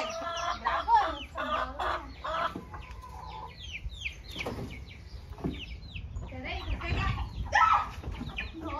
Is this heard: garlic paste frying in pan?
no